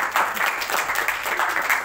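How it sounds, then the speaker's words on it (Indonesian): Applause from a classroom audience, a steady patter of hand claps filling the short moment at moderate volume, with no voices rising above it. "tepuk tangan buat Feriska"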